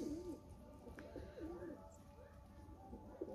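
Pigeons coo softly in repeated low, throaty calls against a faint background murmur.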